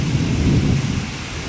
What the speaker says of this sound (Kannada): ಎಷ್ಟು ಜೋರು ಮಳೆ ಹುಯ್ತಾ ಇದೆ ಅಂದರೆ, ಸಖತ್ತು ಜೋರು ಮಳೆ ಬರ್ತಾ ಇದೆ